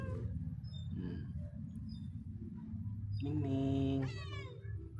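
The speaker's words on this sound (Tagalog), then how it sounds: "Tapos may mga alaga pa akong pusa dito, guys." Tied-up domestic cats at a boarding house give a long, drawn-out meow partway through, loud and close, over a steady low background murmur.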